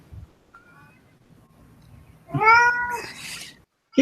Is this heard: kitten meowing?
yes